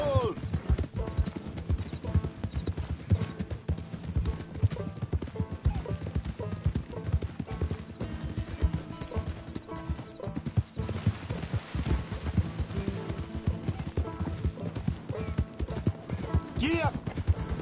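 Horse hooves clip-clop in a steady galloping rhythm in the western video game Red Dead Redemption 2, fairly quiet and continuous, with occasional voices and game sounds in the background.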